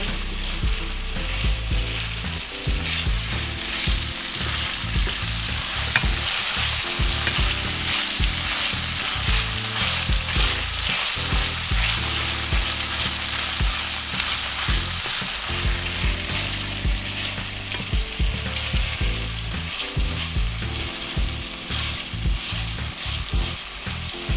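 Baby marrows frying in a pan over medium heat for a South African chakalaka, a dense, even sizzle that runs steadily and close throughout with no talk.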